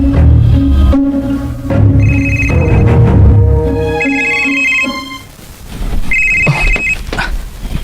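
A telephone rings loudly with an incoming call, repeated electronic ring tones in short bursts over dramatic background music.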